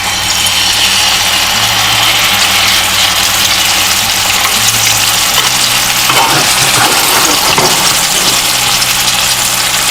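Salmon fillets, seasoned side down, hiss loudly in a hot pan with a steady, continuous sizzle that fills the whole stretch, plus a few faint clinks partway through.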